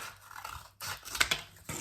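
Scissors snip through a cardboard tube, cutting out a small ring: a string of crisp, close scraping cuts, loud and alone, with a brief pause partway before the cutting resumes.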